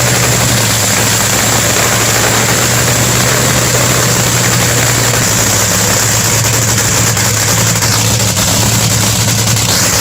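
An NHRA Top Fuel Dragster's supercharged 8.2-liter nitro V8 roars very loud and close, a harsh, sustained, unbroken engine blare with a steady low drone, without talk.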